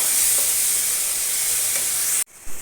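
Egg fried rice base with soy sauce and crushed pepper being stirred in a hot pan, a loud, steady, hissing sizzle close up that cuts off sharply near the end, with no voices.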